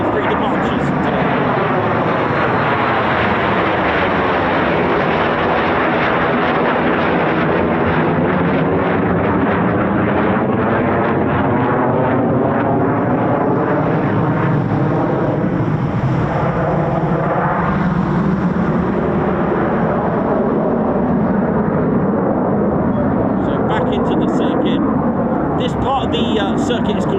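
A Eurofighter Typhoon FGR4 jet passes loudly overhead with a sustained, roaring engine sweep and a shifting Doppler whine that stays intense throughout.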